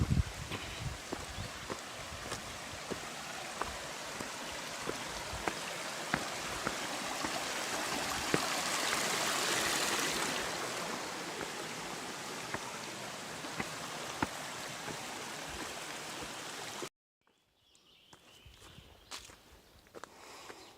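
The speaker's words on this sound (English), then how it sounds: "there'd be a nice spring, and I hear it right up ahead" Spring water flows steadily along the Appalachian Trail, a close, constant splashing hiss with footsteps crunching over it, briefly louder midway before cutting to quieter trail sounds.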